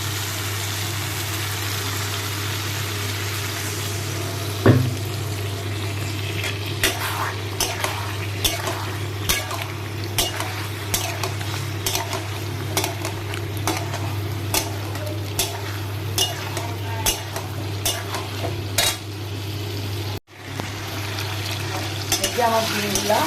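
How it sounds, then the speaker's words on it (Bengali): Eggs and potatoes frying in masala in a pan, a steady sizzle broken by repeated spoon scrapes and taps while they are stirred, with a low constant hum underneath. "ডিম আর আলু দিয়ে ভালো কষানো।"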